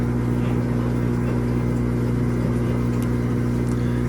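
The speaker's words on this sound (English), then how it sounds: "We are draining for the final spin." A Kenmore Elite HE4t washing machine draining before its final spin gives a steady, loud pump drone with a strong low hum and faint gurgling on top, unbroken throughout.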